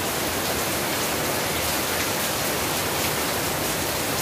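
Steady, dense hiss of heavy rain pouring onto a flooded road that runs like a river, a constant broadband wash with no pauses and no voices.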